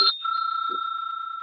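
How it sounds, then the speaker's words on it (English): A debate timekeeper strikes a small bell once, and its bright metallic ring hangs on and slowly fades in a quiet room. "The timekeeper will ring the bell once to show the start of the preparation time"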